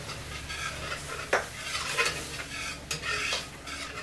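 A big spoon stirring a thick shrimp and chile chipotle sauce in a pan, soft scraping strokes with a few sharper knocks against the pot over a low sizzle, close and fairly quiet.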